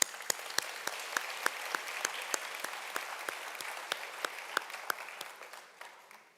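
An audience at a heritage month celebration applauds, many hands clapping in a steady, dense patter with a few sharper nearby claps, fading out at the end.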